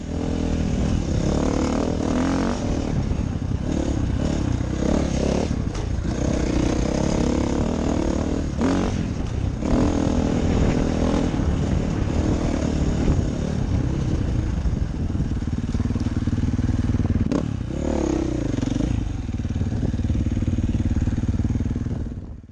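A 2018 KTM 450 XC-F dirt bike engine ridden along a trail on loose, low-traction ground, a loud continuous four-stroke drone that rises and falls with throttle, close and steady throughout with no talking.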